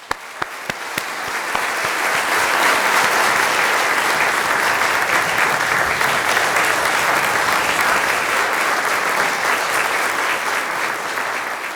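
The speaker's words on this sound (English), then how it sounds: "join me in offering a round of applause to our new fellows, members and diplomates" An audience applauds new fellows, members and diplomates at a college conferring ceremony, starting with a few scattered claps and quickly swelling into loud, sustained, dense clapping that holds steady to the end.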